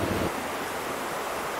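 Small unnamed waterfall beside a hiking trail near Moccasin Creek, a steady broadband rush of falling water with no talk, fairly close and constant throughout.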